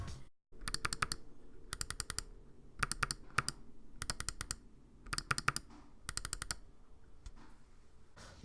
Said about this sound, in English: The mouse has a unique click to it compared to other mice I've had in the past.